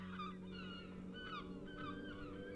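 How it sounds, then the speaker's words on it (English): A faint, distant bird call repeats a few times over a low steady hum, soft honking chirps drifting in the quiet street ambience of Disco Elysium. "What you're hearing must just be a regular bird."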